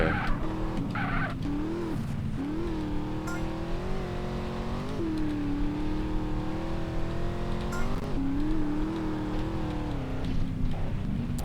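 Car engine in GTA San Andreas droning steadily as it drives toward the finish line, with pitch rising and dipping through gear shifts and brief tire skids, continuous and loud with no talking.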